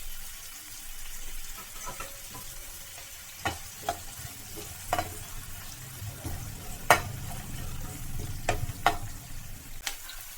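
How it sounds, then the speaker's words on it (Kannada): Chopped onions and crushed garlic sizzling in oil in a pan for vegetable sambar, a steady soft fry under sharp clinks and scrapes of a spoon stirring at irregular intervals. "ಇದಕ್ಕೆ ಜಜ್ಜಿರೋ ಅಂಥ ಬೆಳ್ಳುಳ್ಳಿ ಕೂಡ ಹಾಕ್ಕೊಂಡು ಫ್ರೈ ಮಾಡ್ಕೊಳ್ಬೇಕು."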